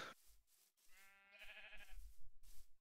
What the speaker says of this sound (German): Für Schafe.